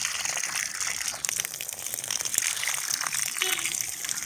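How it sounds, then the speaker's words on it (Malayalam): Water gushes and splashes steadily as it is poured onto chilli plants in a home garden at dusk, a close, continuous hissing flow lasting a few seconds. "വെള്ളം ഒഴിക്കാൻ ഇറങ്ങിയതാണ് ഇപ്പം സന്ധ്യയായപ്പോൾ."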